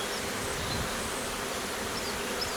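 A dense, continuous buzzing of many honeybees around a hive fills the air, steady and close, with no voices.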